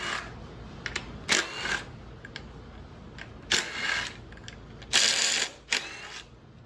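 Hand tools working on a GM LT 6.2 V8 engine as 10mm bolts come off the throttle body: scattered short metallic clicks and ratcheting bursts, close by, with quiet pauses between them.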